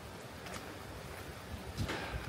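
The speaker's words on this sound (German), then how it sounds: "So, jetzt kommt noch ein bisschen stärkerer Wind auf." Strengthening wind outdoors on the seafront at Maspalomas in the Canary Islands, a faint, steady rush of wind noise with a couple of slightly stronger gusts toward the end.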